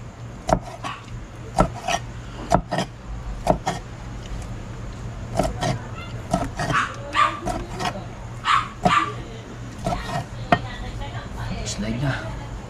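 A neighbour's dog barks repeatedly in sharp, scattered bursts at a moderate distance, mixed with kitchen chopping and intermittent talk nearby.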